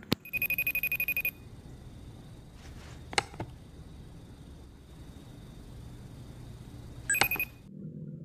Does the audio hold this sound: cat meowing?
no